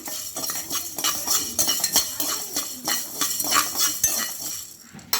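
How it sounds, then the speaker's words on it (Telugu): Pepper chicken fries in a pan, heard mostly as repeated clinks and scrapes of a metal utensil stirring against the pan in an uneven, busy rhythm, fairly close, without any voices. "ఫ్రై అయ్యేదాకా బాగా వేయించుకోవాలండి. కలర్ మారేంత వరకు ఇట్లాగా ఫ్రై చేసుకోవాలండి."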